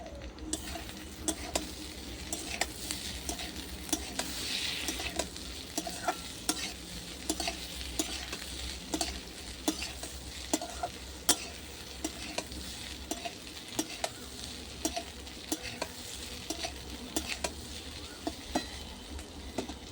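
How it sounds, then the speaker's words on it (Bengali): Ginger-garlic paste fries in a pan of hot oil with a constant crackling sizzle, punctuated by frequent sharp clicks of a spatula stirring against the metal. "আদা রসুনগুলো ভাজা ভাজা হয়ে গেছে"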